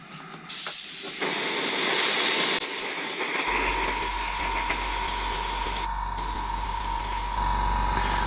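Aerosol spray paint hisses loudly and steadily onto a Kyosho Pegasus RC car body, with brief breaks between passes.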